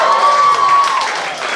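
A comedy club audience claps and cheers in a steady, dense wash of applause for under two seconds, with a thin whistle-like tone riding over the first second.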